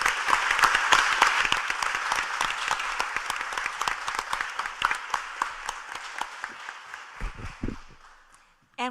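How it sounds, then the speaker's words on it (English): An audience at a commission workshop applauds steadily for several seconds, the clapping gradually thinning out before a few stray claps and a murmur at the end. "please give them another round of applause for pulling this off"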